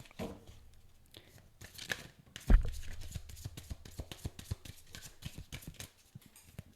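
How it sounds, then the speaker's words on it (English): Tarot cards being shuffled and pulled by hand, giving quiet papery riffles and crisp flicks that repeat irregularly, with a sharper slap partway through, close and fairly soft throughout. "Let's just pull 3 cards."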